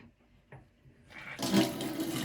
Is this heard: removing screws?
no